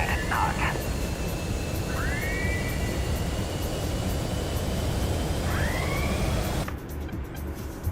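Jet engine spooling up for takeoff in a flight-combat video game, a loud steady roar holding throughout, with radio chatter and voices over it and a sharp change near the end.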